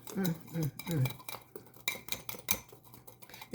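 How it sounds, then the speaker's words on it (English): Metal utensil stirring ingredients in a bowl, giving soft scraping and light clinks against the sides, with a faint voice at the start. "So I'm going to mix this up real good"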